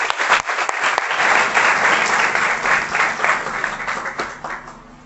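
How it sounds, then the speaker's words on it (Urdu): A church congregation claps loudly and continuously during a sermon service, a dense crowd applause that swells quickly and then fades toward the end. "آئے ہم تالیاں بجائیں گے خدا کے کلام کے لیے، پاک کے لیے۔"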